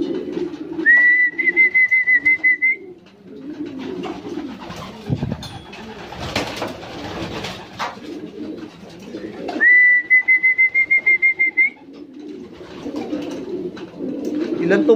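Racing pigeons coo at a port during a race arrival, with two clear, steady cooing calls a few seconds apart over low background rumble and bustle.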